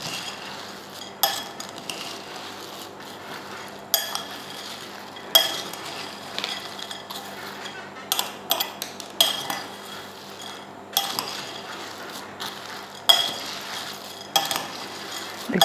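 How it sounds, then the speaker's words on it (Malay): Stirring an almond crunchy mixture in a bowl: intermittent scraping and clinks of a utensil against the bowl in irregular bursts, moderately close, with no talking. "Kita gaulkan semua sebati, bagi dia semua bercampur."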